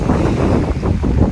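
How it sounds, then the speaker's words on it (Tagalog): Ocean waves and wind on an island beach in summer, a loud rushing surf with heavy wind buffeting the microphone, continuous and close, with no talk. "Kita nyo ngayon kahit tag-araw, may alon pa rin dito."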